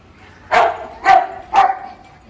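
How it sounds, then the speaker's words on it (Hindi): A Labrador barks three times in quick succession, loud and close, with brief pauses between barks and no other sounds. "वो अकेला वहाँ भौंक रहा है"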